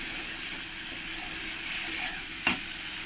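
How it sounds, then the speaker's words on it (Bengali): Fried potatoes being stirred into masala in a pan for a thin katla fish curry, a steady low sizzle with one brief scrape of the spoon near the end. "দিয়ে ভালো করে আরেকবার মশলার সঙ্গে এরকম করে মিশিয়ে নেব।"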